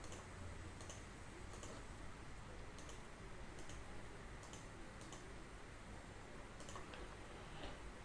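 Computer mouse clicking while sketching elevation contour lines in CAD software, heard as sparse, faint clicks spaced every second or so over a steady background hiss.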